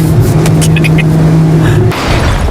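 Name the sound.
expensive car doing donuts on racetrack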